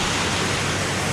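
A roadside waterfall swollen after rain, a dense, steady roar of rushing water, loud and continuous with no voices.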